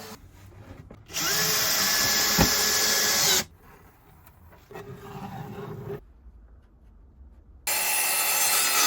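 A cordless screwdriver drives into wood in two loud whirring bursts of a couple of seconds each, separated by quieter handling noise and a short low buzz.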